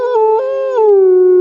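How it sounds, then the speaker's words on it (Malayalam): Wolves howl in a cartoon sound effect: one loud, close, sustained tonal howl that wavers, then slides slowly downward to the end. "അത് ചെന്നായ്ക്കൾ കരയുകയാണ്."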